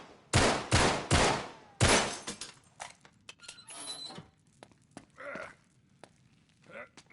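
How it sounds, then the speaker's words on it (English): Gunshots from a video game fired to break a chain lock, three loud sharp shots near the start, followed by quieter clanks, footsteps and short bits of movement. "All right, back up. I'll shoot the lock off."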